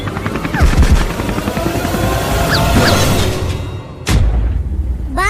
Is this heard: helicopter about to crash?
yes